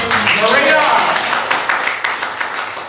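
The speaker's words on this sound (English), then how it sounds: "And yeah, you can clap for me." An audience at a live comedy show in Kyiv claps for a guest named Maria, a dense patter of applause that fades slightly over three seconds, with voices talking and cheering over it.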